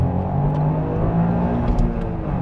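A Toyota GR Yaris three-cylinder engine revs hard against its rev limiter, a loud, close, steady buzzing drone with brief stuttering cuts, no voices over it.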